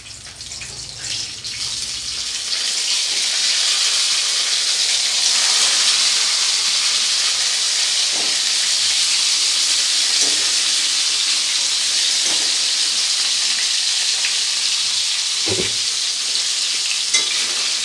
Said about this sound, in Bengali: এরপরে এর মধ্যে দিয়ে দিচ্ছি মাছগুলো।